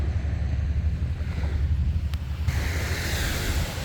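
A wave washing up on a Florida shelling beach, a low rumbling surge of surf mixed with wind buffeting the microphone, near and steady with a brighter hiss of water rising toward the end, no voices.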